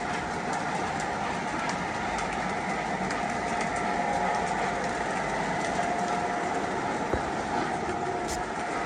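Model trains roll along a layout with a steady, continuous rumble and faint clicking, moderately loud throughout.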